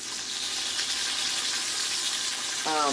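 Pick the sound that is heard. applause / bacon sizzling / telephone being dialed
bacon sizzling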